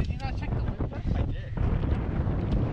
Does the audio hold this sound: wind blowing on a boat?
yes